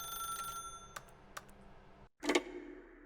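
A telephone in The Stanley Parable: Ultra Deluxe gives a trilling ring, followed by a few soft clicks, a brief silence and then a louder clattering burst, with no voices.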